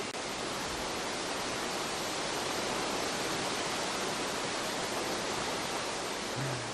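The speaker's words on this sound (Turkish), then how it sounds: "Ah, şelale sesi." Steady, roaring rush of a waterfall filling the whole clip, broad and constant with no pauses, heard close and loud.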